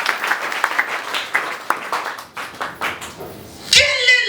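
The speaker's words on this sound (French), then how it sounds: "Est-ce qu'on peut acclamer le Seigneur? Acclame bien le Seigneur." A church congregation claps and cheers in praise during a worship service, a dense burst of many hands with scattered loud claps, ending in a sudden swell of voices.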